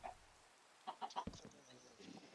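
Chickens cluck in a video game, a few short clucks at the start and then a quick burst of several close together, fairly faint.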